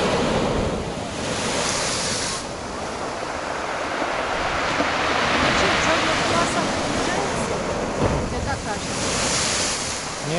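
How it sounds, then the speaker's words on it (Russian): Storm surf crashes onto a beach in a heavy, continuous roar, with swells building and breaking amid strong wind noise and a voice speaking briefly. "Так, еще одна волна надвигается."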